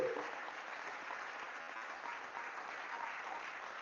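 A church congregation gives sustained applause to acclaim God, a dense wash of clapping held at an even level, with a faint voice barely audible underneath.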